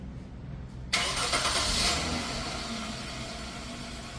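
Genesis BH car engine starting by remote from a smartphone: a sudden crank and catch about one second in, settling into a steady idle hum up close.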